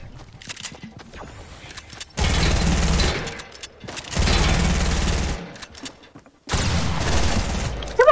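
Pump shotgun blasts and other gunfire in a multiplayer shooter come in three long, loud bursts separated by short quieter gaps. Faint sounds fill the gaps and there is no talk.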